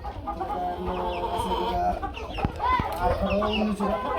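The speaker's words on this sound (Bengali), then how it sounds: "এই মোরগ মুরগিগুলো এই পাঁচ খাবারটা বেশি খায়" Brahma chickens and roosters cluck continuously in a caged farm, several close birds overlapping with sharp squawks and a busy backdrop of calls.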